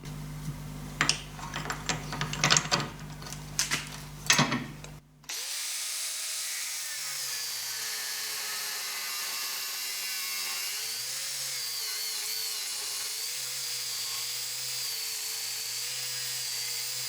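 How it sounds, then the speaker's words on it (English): A grinder on a lathe grinding off a broken piece of metal, a few seconds of irregular clanking and handling, then a sudden steady high whine that holds with slight pitch wavers. "I just ground off that little broken piece so I don't get an interrupted cut"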